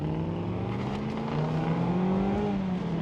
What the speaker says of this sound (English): there's nothing like the sound of a V8